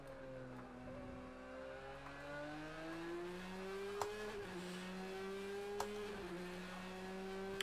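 A Porsche Can-Am race car engine in Project CARS 2 whines and climbs steadily in pitch as it accelerates, with brief gear-shift dips, sounding fairly muted and constant.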